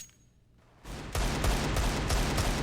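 Rapid Desert Eagle pistol shots crack out in a Counter-Strike esports match on the Mirage map, with a burst of loud, closely spaced gunfire and game noise following a quieter opening moment.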